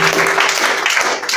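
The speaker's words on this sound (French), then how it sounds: "Est-ce qu'on peut acclamer le décision?" Applause from a church congregation, a dense, steady wash of many hands clapping at once, loud and sustained with no pauses.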